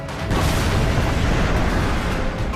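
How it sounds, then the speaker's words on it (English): A heavy howitzer shell blast from Company of Heroes 2, a loud, dense rumbling explosion that swells in after a brief quiet start and holds a thick roar for about two seconds, with no voices. "Another commander-dependent explosion delivery machine is the Howitzer, which is built by your engineers."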